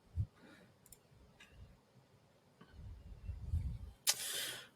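Computer mouse clicking through an online application form, a few sharp, isolated clicks spaced apart in a quiet room, with faint low rumble between them.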